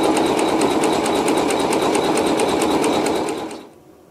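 An embroidery machine sews a placement stitch on batting for a quilt block, a steady, fast, even mechanical whir with rapid stitch ticks, close and loud throughout before stopping abruptly near the end.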